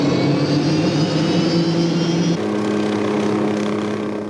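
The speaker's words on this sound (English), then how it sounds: "The shorter blades and compact tail of the Hughes 500 helicopter" A loud, steady Hughes 500 helicopter engine whines and drones close by, its pitch shifting slightly partway through, with no voices.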